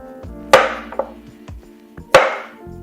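A kitchen knife cuts through radishes on a cutting board, giving two crisp, loud chops with a few lighter taps between them, close and clear over faint background music.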